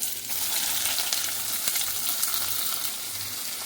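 Finely chopped onion hits hot oil in a pan for a Kerala okra curry, giving a steady, close sizzle with crackling spatter that keeps up throughout, with no voices.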